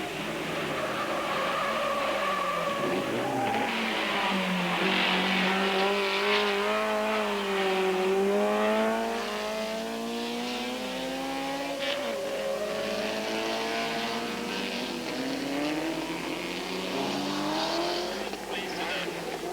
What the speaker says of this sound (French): Passage très serré pour les trois premiers dans la chicane où les petites Cooper harcèlent la BMW